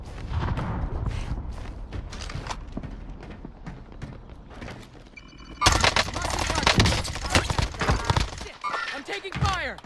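Gunfire in the video game Call of Duty: Warzone: bursts of automatic weapon fire and scattered single shots, growing denser and louder midway, mixed with game voice callouts and other battle noise.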